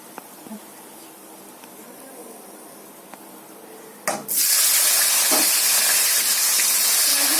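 Potatoes frying in hot oil in a home kitchen: a loud, steady sizzling hiss bursts in about halfway through and holds unbroken to the end, with only quiet kitchen sounds before it.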